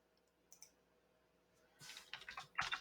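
Someone types on a computer keyboard, starting with a few faint isolated clicks and then moving into a closer, busier burst of clattering keystrokes near the end.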